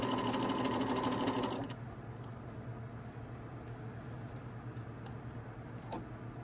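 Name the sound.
sewing machine stitching a sleeve band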